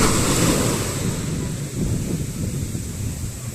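Warm ocean surf rolling and washing steadily with a low, broad rumble, wind buffeting the microphone throughout, no voices.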